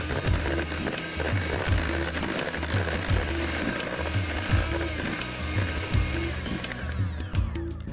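An electric blender whirs steadily as it mixes cream cheese cake batter, a close, continuous motor drone with a faint rhythmic pulsing churn throughout and no talking.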